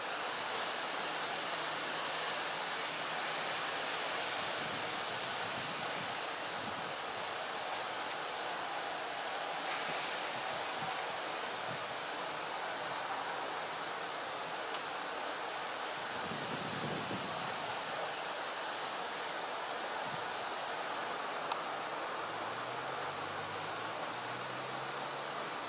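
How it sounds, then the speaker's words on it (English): Strong gusty wind roars steadily through trees for the whole stretch, a dense, constant rushing wash that swells and eases only slightly. "some real gusty stuff going on"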